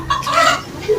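Chickens clucking during mating in a rural yard, a few short nasal clucks and squawks close by, with someone talking over and around them.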